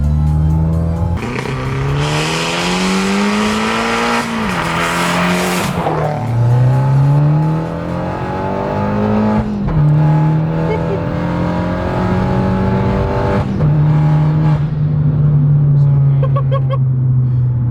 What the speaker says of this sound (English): Guys, this turbo is so aggressive on this car